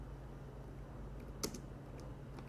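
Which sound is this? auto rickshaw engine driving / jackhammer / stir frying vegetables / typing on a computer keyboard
typing on a computer keyboard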